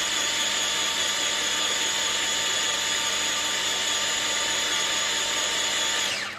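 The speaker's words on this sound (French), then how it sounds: "l'idée c'est juste de bien blanchir les œufs avec le sucre" A small electric mixer beats eggs with sugar for a lemon cake, giving a loud, steady motor whine that runs unbroken and then cuts off at the very end.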